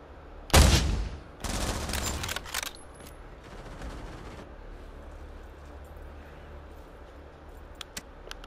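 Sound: gunfire in the VR video game Pavlov

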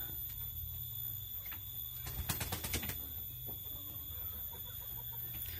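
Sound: Pelung chickens clucking

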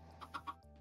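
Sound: chicken clucking in Minecraft video game

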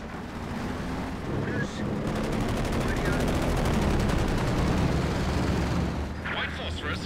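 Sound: artillery barrage in video game Company of Heroes 2

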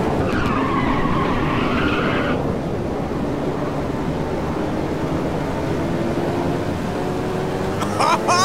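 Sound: race car nitrous boost and skidding, video game Ridge Racer 6

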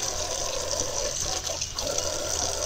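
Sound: warm water running from a tap

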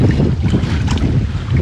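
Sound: strong wind on a lake

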